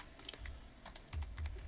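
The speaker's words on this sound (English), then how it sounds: "I was just hitting the F key to fill those in." Quiet clicks of a computer keyboard as keys are tapped in an irregular run, close up, with soft low desk thumps and no speech.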